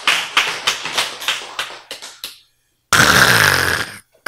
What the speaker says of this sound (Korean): 크, 박수!